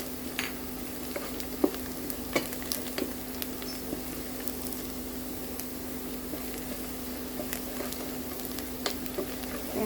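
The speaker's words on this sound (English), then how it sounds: "Fry it until it turns to golden brown." Onions fry in a pan toward golden brown, a constant crackling sizzle close by, dotted with small scrapes and taps as they are stirred.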